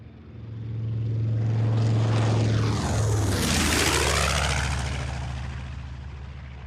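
A radial-engine propeller airplane with a deep droning engine passes overhead, growing loud, sweeping past with a shifting pitch, then fading away.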